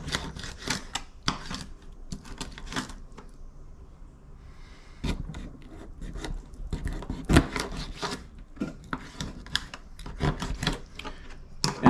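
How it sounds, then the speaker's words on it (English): A knife cuts raw bone-in catfish into chunks on a board, producing a series of close, sharp chopping and scraping knocks in irregular bursts with a brief lull in the middle. "We're going to cut it into chunks, and then we're going to get it ready to fry"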